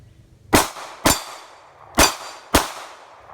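A compact Glock 42 pistol fires four sharp, loud shots with uneven spacing, each crack followed by a short ringing decay, and no talking.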